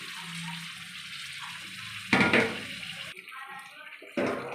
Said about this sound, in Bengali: আমি ধুয়ে রাখা জলটা অল্প দিচ্ছি খুব বেশি জল দেবো না